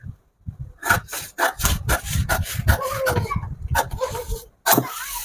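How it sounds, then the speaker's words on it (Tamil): Scissors cut through blouse fabric along the side of a pattern in a run of short, rasping snips that come close and loud, with brief pauses between bursts and no voices. "அடுத்து சைடை கட் பண்ணிடலாம்."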